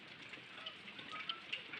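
Rain falls steadily outdoors in a rural Odisha setting, giving a faint, even hiss with a few scattered sharper drop impacts and no voices.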